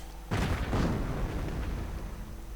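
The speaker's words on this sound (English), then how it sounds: "And 2 mortars up, a small mortar battery right there for OscarRomeo" A WWII strategy game mortar battery firing: one heavy boom lands suddenly and rolls off into a long rumbling decay, loud and alone.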